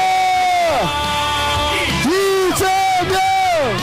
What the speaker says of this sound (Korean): 여러분 함께 외치겠습니다.